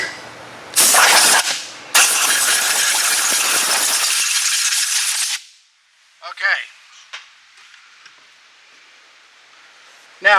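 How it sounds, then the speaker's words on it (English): A loud air blower is used during a valve job on a Polaris Sportsman/Ranger 500 engine. A short blast is followed by a longer, harsh, hissing blast, then a few quiet clinks. "I'm fixing to use a blower"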